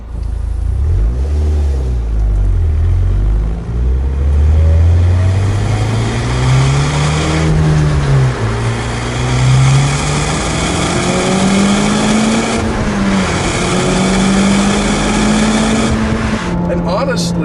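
A Mitsubishi Lancer Evolution Final Edition engine revs loudly and continuously while driving, pitch climbing steadily then dropping at each gear change, including into fifth, before climbing again.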